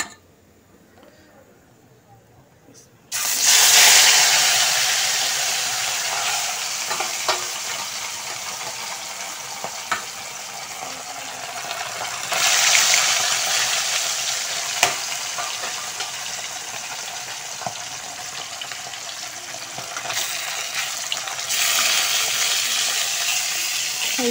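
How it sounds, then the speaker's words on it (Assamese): Fish frying in a pan, a loud steady sizzle that bursts up as the pieces go into hot oil and keeps crackling continuously, with a brief louder surge midway and no talking over it. "মাছখিনি ভাজি লওঁ।"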